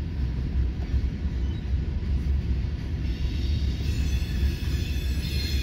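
Cryo train passing in Fremont, Nebraska: a steady, loud low rumble of rolling railcars holds throughout, with faint high metallic ringing creeping in toward the end.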